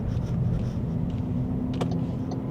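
A 2.0-litre turbocharged MG7 in super sport mode, its engine giving a steady, close rumble with road noise through the cabin, plus a few brief higher clicks near the end.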